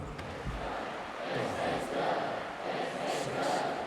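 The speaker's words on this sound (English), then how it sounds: "Harold Kelly electrifying the crowd here tonight at Super Spirit Live." Crowd cheering and roaring at Super Spirit Live, a live competition event, a broad sustained wash of many voices swelling around the middle and holding loud to the end.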